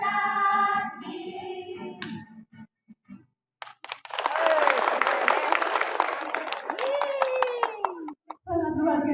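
Clapping for the children of Santo Arnoldus Jansen at a prayer and mini concert, several seconds of hands clapping and audience noise heard close by. Talk and singing-like voices can be heard before and after it.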